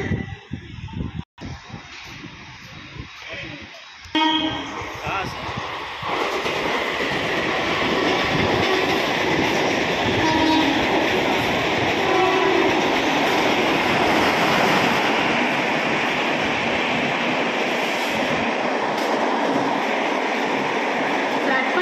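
A 12-car Mumbai local train rolls into Mumbra station's platform 1, its rumble and rattling wheels building to a steady loud roar that fills the rest of the clip after a few quiet seconds.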